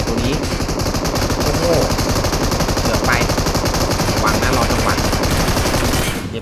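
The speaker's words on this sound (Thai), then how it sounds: "เสียงปืนทางซ้ายนะครับสไนเปอร์นะคาเก้าแปด" Rapid gunfire in the mobile game PUBG Mobile, with a Kar98 sniper rifle involved, comes as a loud, dense, continuous burst of shots with a brief voice over the top.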